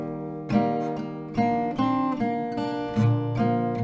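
An acoustic guitar strums a rhythmic pattern from a song, with steady down-and-up chord strokes about every half second, close and clear, with no voice over it.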